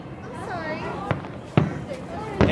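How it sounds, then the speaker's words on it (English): Fireworks burst at an outdoor display, three sharp cracking booms spaced about half a second to a second apart, moderately distant, while people nearby keep chatting over a general crowd murmur. "why aren't you looking at the fireworks this way?"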